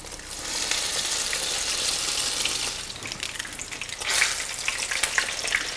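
Artichokes deep frying in hot oil in a pan, a bright continuous sizzle that swells and crackles again near the end, close and without talk.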